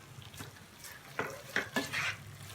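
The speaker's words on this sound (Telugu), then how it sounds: "ఒకసారి కలుపుకోవాలి" A spoon stirs tomato pulao in a kadai after coriander and mint go in, giving several short scraping, stirring bursts over a soft sizzle, fairly close and moderately quiet.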